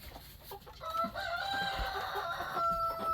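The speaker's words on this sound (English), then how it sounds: "this pretty one right here is a rooster" A rooster crows nearby, a long strained call rising and trailing off, with some clucking and scratching around it.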